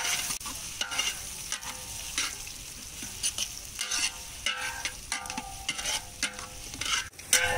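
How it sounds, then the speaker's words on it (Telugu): Onions and green chillies fry in a pan over a village cooking fire, a steady bright sizzle with repeated scraping stirs breaking through the crackle. "ఆనియన్ బాగా వేసాక పచ్చిమిర్చి వేసుకోవాలి."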